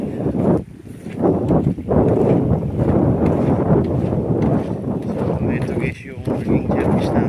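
Seaside ambience at Cabo Beach in Coron, Palawan: loud, continuous wind roars across the microphone over the surf, with brief dips in its buffeting.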